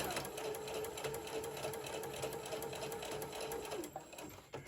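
A sewing machine runs steadily, stitching a straight seam on a fabric book pillow, with a continuous close whir that slows and stops near the end.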